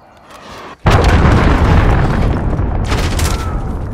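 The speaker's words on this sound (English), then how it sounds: "Enemy cruise missile." Enemy cruise missile strikes in a video game: a sudden loud, close boom that breaks off a brief quiet moment, then a long roaring rumble with a second burst of crackling debris, and no talking.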